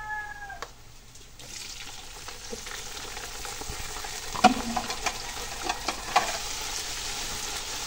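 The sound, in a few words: sautéing tomato, onion and garlic for menudo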